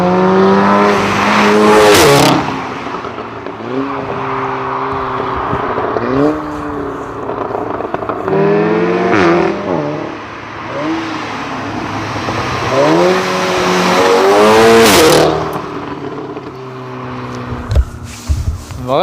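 An Audi RS3 engine revs hard in repeated rising and falling bursts while the car drives, loud and close, with a raspy, growling tone that peaks in strong surges about every six seconds.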